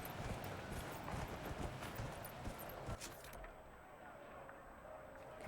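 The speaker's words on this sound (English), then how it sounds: "I can use my horse now" Horse hooves pound in a galloping clip-clop rhythm in the Dragon Age Inquisition video game, steady and fairly loud for about three seconds before easing off, with a thin tone lingering afterward.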